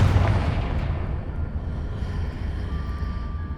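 Confringo spell blast in a Harry Potter video game, a sudden heavy explosive boom that rolls off into a long low rumbling decay.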